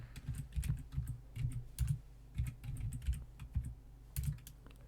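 Close, quiet clicking and clacking of keys on a computer keyboard while typing at a command line, with uneven bursts and short pauses and no voices.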